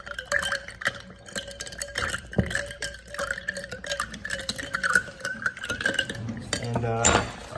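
A spoon stirs sugar into a glass of honey iced tea, clinking rhythmically against the sides throughout, then a final clatter and a short pouring splash.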